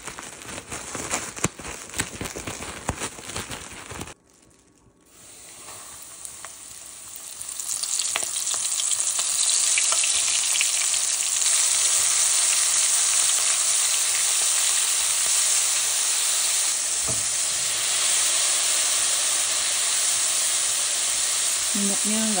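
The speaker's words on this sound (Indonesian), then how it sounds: "Ini aku goreng 2 menit aja." Squid tentacles frying in hot oil, a loud steady sizzle that builds after a brief quiet gap and holds as a dense, continuous crackle with occasional pops and stirring.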